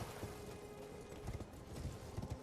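Horse hooves galloping in a video game, a quiet run of uneven clip-clop thuds over a low background, growing somewhat louder toward the end.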